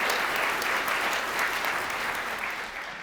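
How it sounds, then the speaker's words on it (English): Audience applause at an awards ceremony, a dense sustained clatter of many hands clapping that fills the whole stretch and fades slightly toward the end, with no talk over it. "So big round of applause for both of you."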